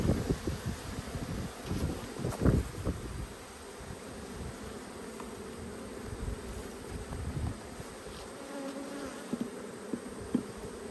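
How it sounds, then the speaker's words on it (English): Agitated honeybees buzz around an open hive, with scattered close fly-bys over a faint background hum, light wind and rustling, and no talk. "A few agitated bees flying"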